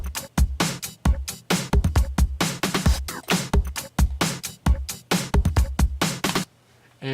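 Looped click sample programmed on an Ableton drum rack alongside a house re-edit beat, with sharp, regular transients over a thumping low pulse, loud and steady before cutting out near the end.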